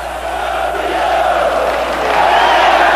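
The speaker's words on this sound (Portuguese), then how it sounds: "quando o juiz José Aparecido de Oliveira apitou o final, a torcida começou a comemorar" A stadium crowd of Palmeiras football fans celebrates after the final whistle of the 1993 Campeonato Paulista final, a dense, continuous roar of cheering that swells slightly toward the end, loud and sustained with no pauses.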